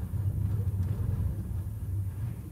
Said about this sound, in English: Can you hear that wind?